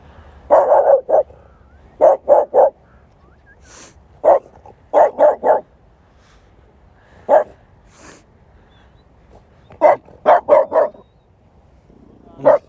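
A small French bulldog barks outdoors in the snow, loud and close, in several quick bursts of two to four yaps separated by short pauses, with single barks between them.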